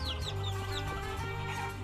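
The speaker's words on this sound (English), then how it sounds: "Where's the chicken?" A chicken in the video game Guacamelee gives a few quick, chirpy clucks over steady, low in-game music and ambience. No one speaks.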